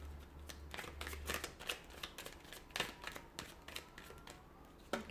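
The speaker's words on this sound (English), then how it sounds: "we'll give the cards a shuffle and see what your spirit guides are trying to communicate here." Tarot cards shuffled by hand, a run of soft, quick riffling flicks and taps in irregular bursts, close and quiet, over a low steady hum.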